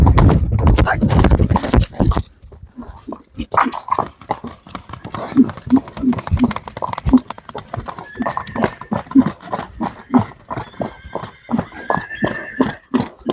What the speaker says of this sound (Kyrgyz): Жакшы ат чыгып калды достор